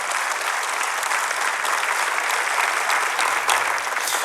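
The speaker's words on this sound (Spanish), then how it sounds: "dale un fuerte aplauso a Él" Church congregation applauding during a Spanish-language sermon, a loud, dense wash of clapping from a full room that holds steady for about four seconds, no voices over it.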